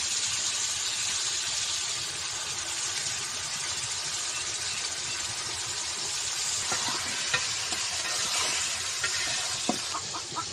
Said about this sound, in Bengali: এটা মুরগির হাত পা রান্না করতে আছে কলিজা গিলা